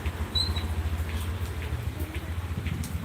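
Rain falling steadily outside, a soft continuous patter under a low background hum, with no one speaking.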